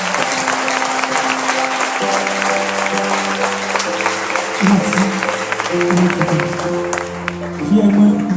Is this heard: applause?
yes